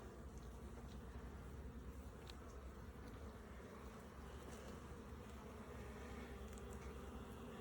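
Honeybees buzzing around an open hive during an inspection, a faint, constant droning hum with no break and no voices.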